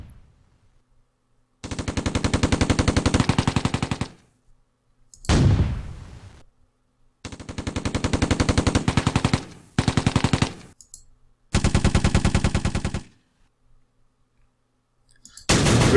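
Rapid machine-gun bursts crackle through a firefight in the war game Tigers on the Hunt, with about five long bursts and a sharp blast separated by near-silent gaps, loud and close.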